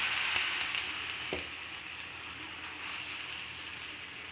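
Egg frying in plenty of oil in a pan, a soft continuous sizzle with faint crackles and occasional pops, fairly quiet and steady with no talk.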